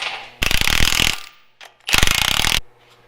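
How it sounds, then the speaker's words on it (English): A ratchet wrench tightens bolts on a Jeep panhard bar in a workshop, two close, loud bursts of rapid clicking separated by a brief pause. "Now we'll tighten them down and see."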